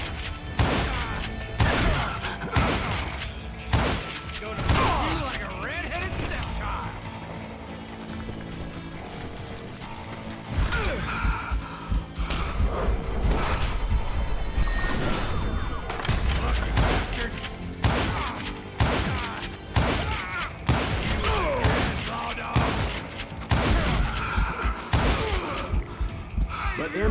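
Call of Juarez: Gunslinger gameplay with rapid bursts of revolver and rifle gunfire. The loud cracks come in quick clusters over a busy layer of game sound effects, with a voice talking at points.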